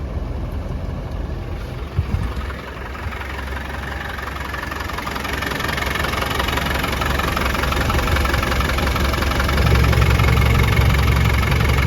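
A steady diesel engine idle from a cold 1993 Land Rover Defender 110 200Tdi, running on its own, a constant low rumble with a faint knocking texture that grows slightly louder toward the end.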